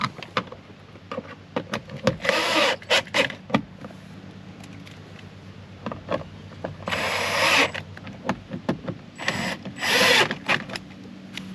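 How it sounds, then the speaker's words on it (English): Screws being driven by a power driver while installing a speaker in a BMW rear door, with several short whirring bursts, two of them longer and louder, close by and free of talk. "Then just put your screws in."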